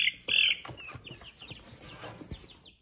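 Chickens cluck and chatter close by, a few short calls scattered over a quiet background with a brief louder squawk near the start.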